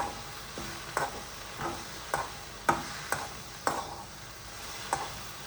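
Okra stir-fry with masala being stirred in a pan, a soft background sizzle broken by about eight spaced scraping and tapping strokes of a spoon against the pan, fairly quiet and without speech.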